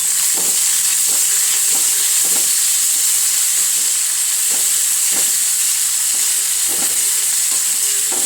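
Ingredients with garlic fry in a pan under a constant loud sizzle, while a spoon stirs them in a series of soft, regularly spaced scrapes.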